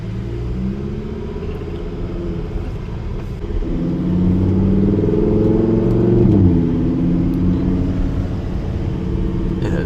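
A Lamborghini Huracan Evo Spyder running after a restart, a deep steady engine rumble that swells into a louder rev midway before settling back to a firm idle.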